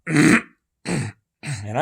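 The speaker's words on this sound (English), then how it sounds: "just going to be clearing my throat here." A man clears his throat three times in quick succession, each a short, close, rough burst separated by brief silences, with no other sound around it.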